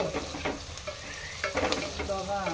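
Green chillies frying in a pan on low flame for coconut pulao, a steady close sizzle with intermittent scrapes and stirring clatter throughout, no voices.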